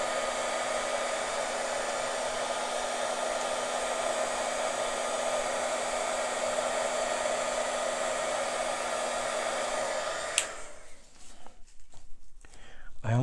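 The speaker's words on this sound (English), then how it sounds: "Let's hit it with a heat gun, embossing tool." A heat gun embossing tool blows over an acrylic fluid paint pour on canvas, a loud, steady, close whooshing roar that runs for about ten seconds before cutting off abruptly.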